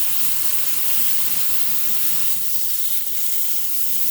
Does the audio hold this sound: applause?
no